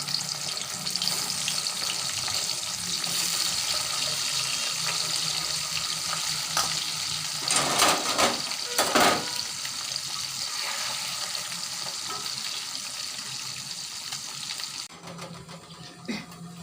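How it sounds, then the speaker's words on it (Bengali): Chicken balls frying in hot oil, a close, steady bubbling sizzle with a few brief louder crackles and clatters partway through, no talk. "তেল গরম হয়ে গেছে, এখন আমি চিকেন বলগুলোকে ভেজে নেব।"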